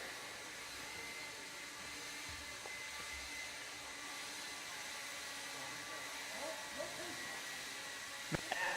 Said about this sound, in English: Marshals, grab your blower, start blowing off your areas.